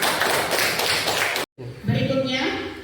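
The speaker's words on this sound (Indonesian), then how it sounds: "Berikan tepuk tangan." Applause in a classroom during a lesson, dense clapping for about a second and a half, then a brief silence, followed by a teacher's voice.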